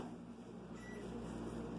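A microwave oven hums steadily while heating potatoes wrapped in a wet towel, a low, even drone.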